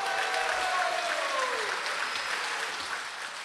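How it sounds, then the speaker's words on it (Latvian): Enthusiastic audience applause at a charity concert, a full wash of clapping that stays loud and then eases slightly toward the end while a sliding tone rings faintly underneath. "ka tā atskanēs vētraini aplausi"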